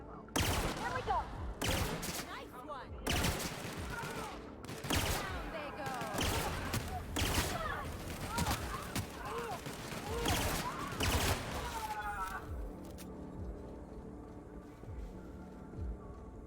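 Rapid bursts of gunfire from the Outer Worlds video game crackle loud and close in repeated volleys, then thin out into quieter ambient game sound near the end.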